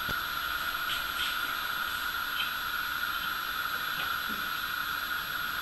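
Vegetables in a pot on a stove steaming: a steady, even hiss persists throughout at low volume with faint small clicks, and no voices.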